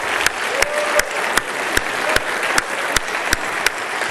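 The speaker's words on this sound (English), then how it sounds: "Let's give him a round of applause." An audience applauds in a hall, with dense clapping and a few sharp, regular claps standing out in a steady rhythm throughout.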